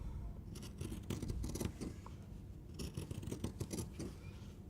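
Pinking shears snip and trim along fabric edges in two rapid bursts of crisp, close cutting strokes, with a short pause between them and no talking.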